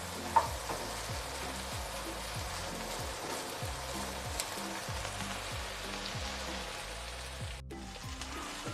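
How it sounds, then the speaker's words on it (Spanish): Onions frying and being stirred in a pan, a steady soft sizzle with rhythmic scraping strokes of the stirring utensil repeating through the clip, moderately quiet and close. "Y movemos las cebollas."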